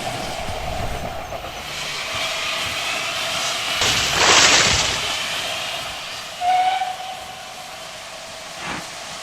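LMS 8F steam locomotive working a steep incline at Edge Hill depot, a loud rumbling chuff and rail noise with a hiss of steam released midway and a short whistle-like tone later, heard from nearby without voices.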